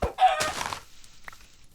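A Minecraft chicken clucks and squawks in a short burst, loud at first and then fading, with faint game ambience behind it.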